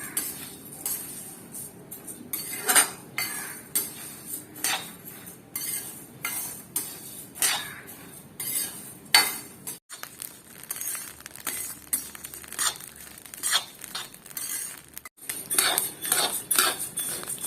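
Rice is stirred in a pan until it turns reddish, producing repeated close metallic scrapes and clinks of a spoon against the pan in an uneven steady rhythm, without talk.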